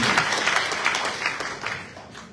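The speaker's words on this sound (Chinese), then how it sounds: "是不是请大家可以鼓掌通过？" A room of meeting attendees claps together in sustained applause to approve a motion, the clapping dense at first and gradually thinning out.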